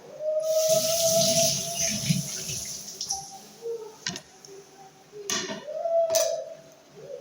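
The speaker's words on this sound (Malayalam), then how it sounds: "പ്ലേറ്റ് എടുത്തിട്ട് നമുക്ക് മാങ്ങ കഴുകാം." Tap water runs in a steady hiss onto mangoes on a yellow plate, then breaks into shorter splashes with a few light clinks of the plate, fairly close and quiet.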